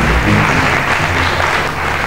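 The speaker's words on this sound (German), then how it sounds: "Applaus, meine Damen und Herren, für die Startnummer 1. Buchhoff Michaela." An audience at a WFF Universe 2000 fitness and bodybuilding competition gives loud, dense, continuous applause.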